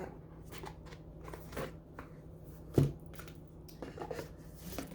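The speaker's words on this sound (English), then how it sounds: "Just going to give them a quick shuffle." An oracle card deck is shuffled by hand in quick soft riffles and taps, close and quiet, with one sharper snap midway and no talking.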